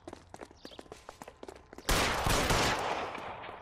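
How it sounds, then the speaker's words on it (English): Gunfire in the video game L.A. Noire Remastered: after a stretch of quick footsteps and scuffling, a loud burst of shots erupts and rings on with dense noisy echo to the end. "Sabo, stop or I will shoot!"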